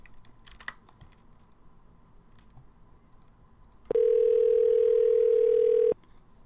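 A steady telephone dial tone sounds for about two seconds while a call is placed, loud and unbroken, after a stretch of quiet keyboard typing and scattered clicks.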